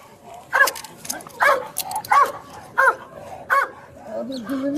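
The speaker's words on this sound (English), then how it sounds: "you can hear with the dog barking there" During an arrest, a police dog barks in five sharp, evenly spaced barks close to the microphone, with a low whine or voice at the end.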